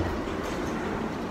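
Airport tram at McCarran International in Las Vegas pulling into its final stop at the D Gates: a steady, loud rumble of rolling wheels and car noise, continuous throughout with no talk over it.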